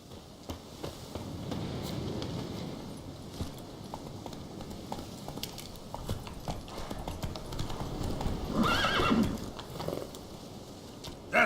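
Roach, the horse in the video game The Witcher 3, gallops with a steady, fast clip-clop of hooves over a continuous rumble of ambient game noise. The sound holds at a fairly even level for the whole stretch, with no voices.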